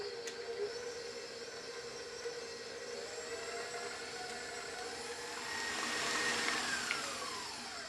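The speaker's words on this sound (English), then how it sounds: "I'm going to slowly mix this up because I don't want the icing sugar going everywhere" An electric mixer beats powdered icing sugar for gluten-free sugar cookie icing, a faint steady whirring hum that swells slightly toward the end, with no talking.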